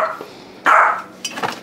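A dog barks nearby: one loud sharp bark, then a quick run of smaller yips and woofs.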